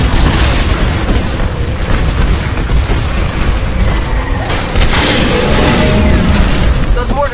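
Mortar titans in Titanfall fire on a harvester, producing a dense, continuous barrage of loud booms and blasts, with battle noise layered underneath and speech over the top.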